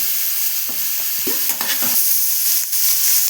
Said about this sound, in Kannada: ಇವಾಗ ಸಣ್ಣಗೆ ಹೆಚ್ಚಿಟ್ಕೊಂಡಿರುವಂಥ ಹಾಗಲಕಾಯಿ ಹಾಕೊತಾ ಇದ್ದೀನಿ.